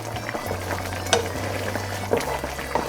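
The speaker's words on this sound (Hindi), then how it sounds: "अब आप इसमें मीडियम टू हाई फ्लेम पर चम्मच चलाते रहें" Chopped tomatoes fry over a medium-high flame while a spoon stirs them. A low hiss and bubbling run under occasional soft scrapes and clinks.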